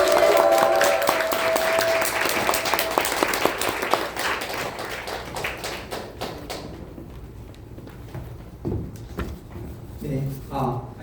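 A crowd at a water-purifier sales lecture claps and cheers as a team leader is called up, dense applause at first that thins out, with a voice and tonal sound early on and scattered thumps near the end.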